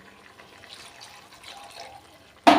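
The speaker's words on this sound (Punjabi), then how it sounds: "ਇੰਨਾ ਕੁ ਪਾਣੀ ਹੋਰ ਪਾ ਲਾਂਗੇ" Water poured into a cooking pot while preparing a pakora curry, a sudden loud splashing pour arriving at the very end after a quiet stretch.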